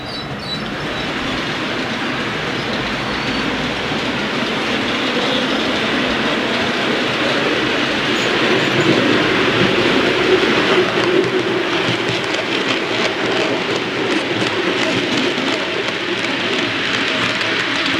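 Model train running continuously along layout track, a steady close rumble with faint wheel clatter and some high squeal, with no talk.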